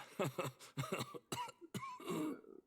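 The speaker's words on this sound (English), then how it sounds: "the sound dissolves into a series of thick, wet coughs" Thick, wet coughing from a character in the video game Pillars of Eternity II: Deadfire, a run of rough, phlegmy coughs in quick bursts, close and fairly loud.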